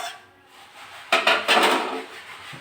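A spoon scrapes and knocks against a pan while pumpkin stems and potatoes are stirred, a few short clattering strokes after a quiet moment.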